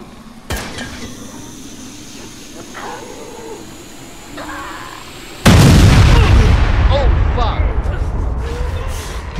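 Gunfire and a big explosion in a hectic video game: a sharp shot early on, then a loud sustained blast from mid-clip that keeps rumbling to the end, with people talking over it.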